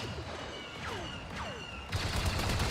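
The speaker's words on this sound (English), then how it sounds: "Oh look, he's shooting at the tree." In a pirate-ship video game, an enemy fires at a tree as a rapid, dense burst of gunfire with whooshing sweeps overhead, then grows louder and busier near the end.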